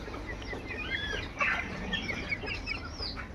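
White layer hens on a poultry farm under a cloudy afternoon sky, clucking and softly calling in several overlapping voices with a low steady farm background.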